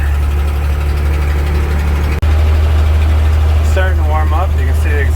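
A 1952 Dodge M37 engine idles steadily while warming up, a loud, deep continuous rumble close by with a brief dropout midway, and a voice speaks faintly near the end.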